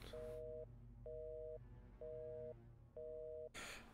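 A telephone line tone in The Painscreek Killings video game beeps four times in a steady on-off rhythm, each pulse about half a second, clear and close.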